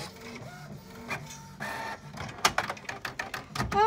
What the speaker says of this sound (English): What if I get like copyrighted for like printer sounds?